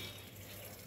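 Water is poured onto a rooftop, heard as a steady, soft gushing stream through the whole brief moment with no talk.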